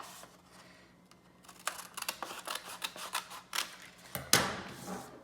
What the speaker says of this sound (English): you're going to cut off the flap.